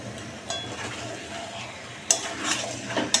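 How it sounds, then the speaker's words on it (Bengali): A large batch of meat is stir-cooked in a big wok (kadai), with a soft sizzle under the scraping and clinking of a metal spatula. The strokes come in short bursts, louder toward the end. "যেখানে মাংস কষাটা চাপিয়ে দিয়েছি,"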